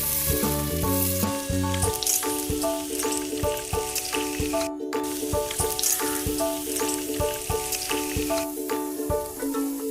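Green chillies and tomato cubes cook in spices in a pan, giving a dense, steady sizzle that runs throughout, heard close and loud beneath a layer of tonal background music.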